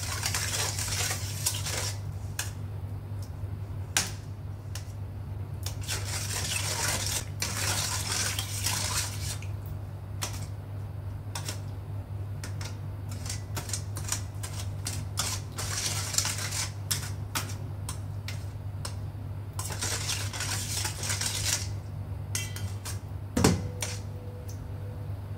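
Dry flour, sugar, salt and yeast being mixed in a bowl, with a spoon repeatedly scraping and clinking against the sides in an irregular rhythm over a steady low hum, close and fairly loud.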